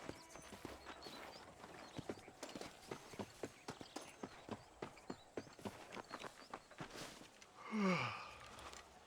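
Horse hooves clop in a steady, evenly spaced rhythm in the Red Dead Redemption video game, moderately close and fairly quiet, ending with a louder snort or whinny near the end.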